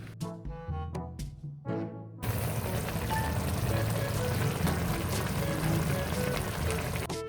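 A few clinks and taps, then a sudden loud, steady sizzling hiss as beaten eggs hit a hot pan and keep frying.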